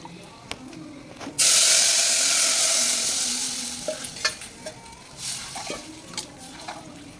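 Green chili paste stirred by hand into a mix of buttermilk and gram flour, with a loud hissing stretch early on, then softer scraping and intermittent clinks, no talking.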